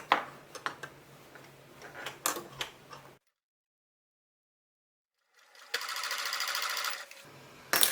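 Sewing machine stitching recycled denim fabric, a close, rapid mechanical chatter in two runs separated by a few seconds of silence, with brief handling clicks around them.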